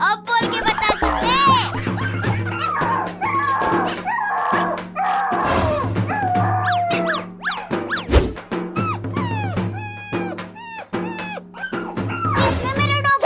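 A dog barks, yips and whimpers in repeated short bursts amid excited talking and shouting voices, close by in a lively domestic scene.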